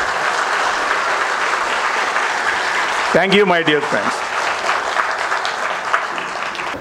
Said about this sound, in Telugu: ఒకసారి బాగా చప్పట్లు కొట్టండి